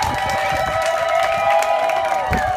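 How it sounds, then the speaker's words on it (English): Audience applause at a Somali Bantu fundraiser in San Diego, heard as a crowd clapping and cheering beneath sustained tonal music, with occasional louder bursts. "we should give him a strong round of applause"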